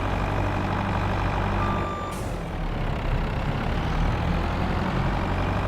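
Heavy vehicle engine from Farming Simulator 22 drones steadily while it spins donuts in the snow, with a brief high reversing beep and an air-brake hiss near the two-second mark, loud and continuous throughout.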